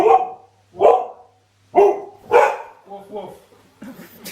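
A puppy lets out a run of about six short, loud yapping barks up close, spaced irregularly, with the last few softer and more broken.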